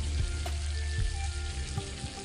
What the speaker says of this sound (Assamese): এতিয়া মই এখন কেৰাহীত তেল দিছোঁ। তেল দি তাত গৰম হ'বলৈ দি তাত দিছোঁ জিৰা